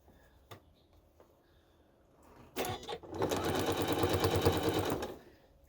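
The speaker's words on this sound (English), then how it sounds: "I'm going to turn it and I'm going to line it up and stitch it down just the way I've been doing" Sewing machine stitching quilt block pieces for a spool block, with a few soft handling taps first, then a steady close mechanical whir running for about two seconds before stopping.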